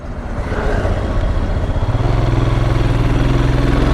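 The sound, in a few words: motorcycle engine running on highway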